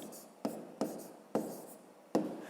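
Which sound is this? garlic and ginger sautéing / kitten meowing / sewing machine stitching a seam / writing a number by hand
writing a number by hand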